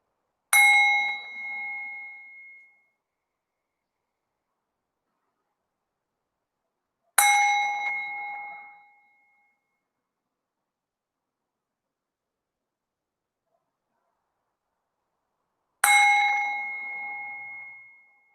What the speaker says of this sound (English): I'll ring this bell a few times